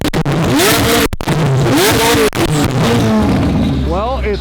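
A car engine revs hard in sharp repeated bursts for an exhaust flame tune, rising and falling pitch sweeps close by, with people talking and cheering over it.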